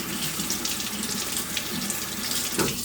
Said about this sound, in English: Rinse it off, get all the last little bit off.